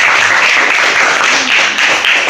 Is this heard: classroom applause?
yes